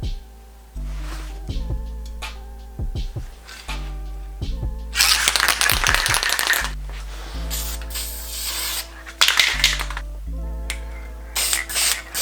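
Lacquer sprays onto a kintsugi-repaired plant stand in a shop in several hissing bursts of varying length, close and fairly loud, broken by brief pauses and small handling clicks and knocks.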